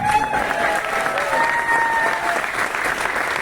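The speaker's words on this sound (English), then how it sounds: "A round of applause for Mr. Kamarveer Singh." Audience applause for an honoree at a corporate CEO event, a dense, steady wash of clapping throughout with faint tonal sounds threaded through it.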